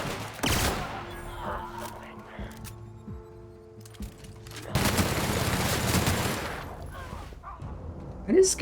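Gunfire from a gun in a video game: bursts of rapid shots near the start and again in the middle, with quieter scattered shots and a voice speaking between them.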